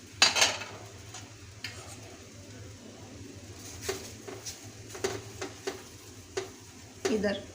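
Paratha cooks in ghee on a pan with a faint, steady low sizzle under scattered spatula scrapes and clinks, with louder utensil knocks near the start and end.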